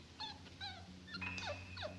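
A dog whimpers in a video game, several short high whines in quick succession over a steady low background hum, fairly close.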